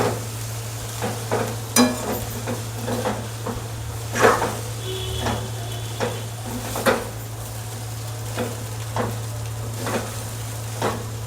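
A spoon stirs kanda poha, flattened rice with onion, in a pan, scraping and clinking against the metal at irregular intervals over a steady low hum, with a soft sizzle underneath.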